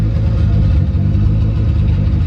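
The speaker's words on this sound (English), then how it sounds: "Engine running, we have to turn it off." A Honda car engine idles steadily while hooked up for ECU tuning and throttle position sensor calibration, a loud, continuous low rumble with even texture and no talk over it.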